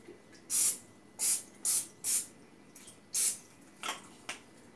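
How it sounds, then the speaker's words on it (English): Several short, close hissing bursts of aerosol cooking spray on a baking tray in an uneven rhythm, about six strong puffs and a few lighter ones. "first we're going to spray the tray"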